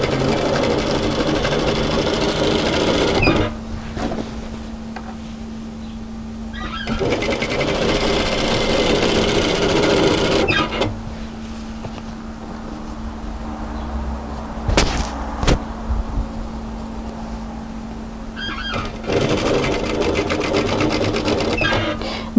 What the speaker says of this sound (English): I'm going to sew my 1 centimeter seam allowance